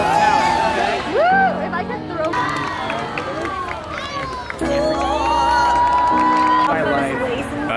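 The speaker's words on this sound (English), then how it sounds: "We got a full crowd of people. It's really loud" A full, loud street crowd in Colombia cheering and shouting before a magic show, dense babble and whoops all around with individual voices rising above the noise.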